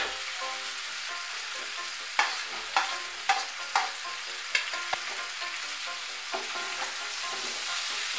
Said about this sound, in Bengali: মেশানো হয়ে গিয়েছে, এর মধ্যে আমি টমেটো কুচিটা দিয়ে দেব